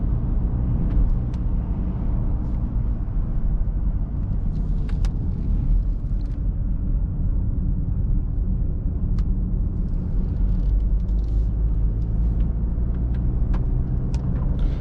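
A 2020 Mercedes GLE 350de plug-in hybrid on the move, giving a steady low road rumble and tyre noise with a faint engine hum beneath, continuous and even throughout, no talk.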